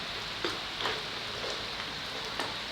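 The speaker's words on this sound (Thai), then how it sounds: "มื่อนี้บรรยากาศฝนตกครับ" Rain falls steadily outdoors as a broad, even hiss, with a few faint drop taps scattered through it and no voices.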